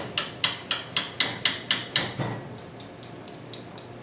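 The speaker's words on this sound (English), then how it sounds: "You want to peel your potatoes." Idaho potatoes being peeled for mashed potatoes, with a quick run of about a dozen sharp, evenly spaced scraping strokes, close and crisp, that are steady at first and then soften and slow slightly.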